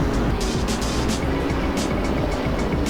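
GT3 race cars, including a Lotus Evora, a McLaren and a Nissan, race through the twisty sections and chicane of the Nürburgring in Assetto Corsa. Engines roar loud and constant with no break.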